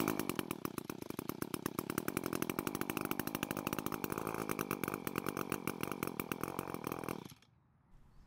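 A gas-powered lawn edger's small two-stroke engine buzzes loudly and raggedly with a rapid pulsing rhythm for several seconds, then abruptly cuts out and dies into near silence.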